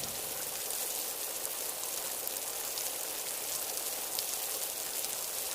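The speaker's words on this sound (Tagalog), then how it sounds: "The heavy rain is accompanied by the strong wind." Steady, dense hiss of heavy rain pouring during a thunderstorm with strong wind at a campsite, continuous and unbroken with no voices.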